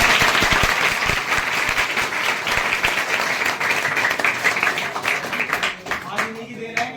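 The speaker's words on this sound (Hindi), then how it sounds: "तो भाई इनके लिए तालियां हो जाए।" A crowd applauds loudly and steadily for several seconds, many hands clapping at once, tapering off slightly near the end.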